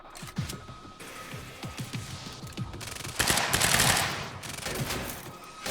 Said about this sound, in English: Yeah, good shooting.